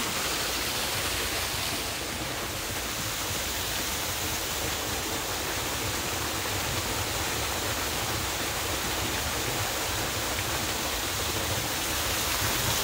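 A loud, steady roar of falling water fills the whole stretch, a dense rushing wash with no pauses and no voices.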